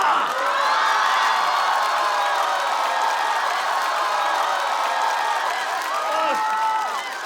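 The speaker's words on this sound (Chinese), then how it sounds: "掌声！" A stand-up comedy audience breaks into loud, sustained applause and cheering with whoops, a dense roar of clapping that fills the room and holds steady before fading slightly at the end.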